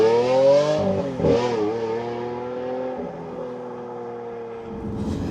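A Lamborghini Aventador V12 revs hard, its pitch climbing and dropping in two sharp blips before settling into a lower sustained drone, close and loud with no talk.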